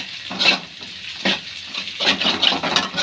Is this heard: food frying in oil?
yes